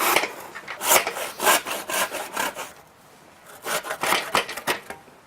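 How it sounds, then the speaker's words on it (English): A hand saw cuts through timber for the sides of a garden raised bed, with loud close rasping strokes in an uneven back-and-forth rhythm that pause briefly midway and then resume. "Let the saw do the work. Don't force it and don't rush it."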